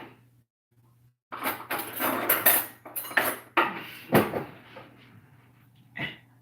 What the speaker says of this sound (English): I want to stir my milk.